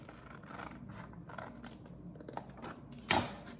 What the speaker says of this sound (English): you're going to just cut along this line